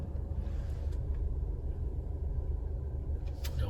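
Alfa Romeo Stelvio (2022) creeping slowly forward, a steady low rumble of engine and road noise with a faint hiss, continuous and even from inside the cabin.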